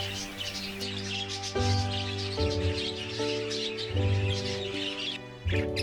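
Budgies in an indoor bird room chirp and warble continuously, many voices overlapping into a bright, busy chatter with a steady tonal whistle running through it.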